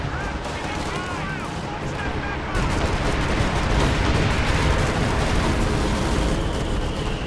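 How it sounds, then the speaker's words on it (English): Artillery shells exploding in Company of Heroes 2, a 2v2 match: sharp booming impacts at first, then a dense, continuous roar of blasts and gunfire that swells louder partway through. "Very satisfying explosive noise as well when it lands."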